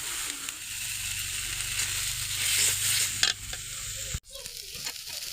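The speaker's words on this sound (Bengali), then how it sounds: "এখন আমরা 1 চামচ চাউলের গুঁড়ি দিয়ে দেবো, অল্প অল্প করে দিব, আর এইভাবে নাড়া দেবো" Cooked mutton is stirred with spoonfuls of rice flour in a pan, a close sizzle mixed with scraping stirs, with a low hum beneath that stops abruptly near the end.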